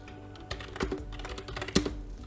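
Quick, uneven keystrokes on a computer keyboard, close and clear, with a couple of heavier key presses standing out among the lighter taps.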